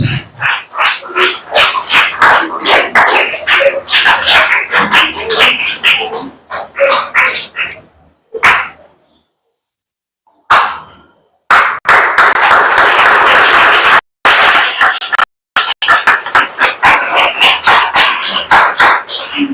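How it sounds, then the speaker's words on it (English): Audience at a spelling bee claps for a coach in bursts of dense, loud applause separated by sudden silent gaps, with a dog barking somewhere and some talk mixed in. "A round of applause for her coach."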